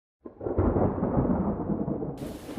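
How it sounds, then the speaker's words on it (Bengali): Thunder in an animated rainstorm: a single rolling rumble swells in after a moment of silence and sustains steadily, fairly loud and close, with a hiss of rain rising at the end and no talking. "শুনতে পাচ্ছ না কত জোরে বিদ্যুৎ চমকাচ্ছে?"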